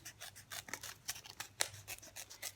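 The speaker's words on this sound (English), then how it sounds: "And then I'm going to cut out that circle." Scissors snip through paper while cutting out a drawn circle for a sunflower craft, giving a string of short, crisp close-up cuts in an irregular rhythm.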